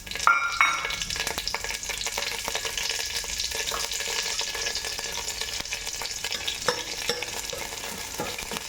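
Curry leaves hitting hot ghee in a kadai set off a sharp crackle that settles into a steady, busy sizzle, close and fairly loud, with a few stirring scrapes and no talk.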